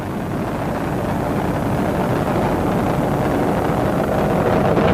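Space Shuttle Endeavour's three liquid-fuel main engines roar during launch from Complex 39B, a steady, dense, broadband rumble that stays loud and unbroken, with wind buffeting on the microphone.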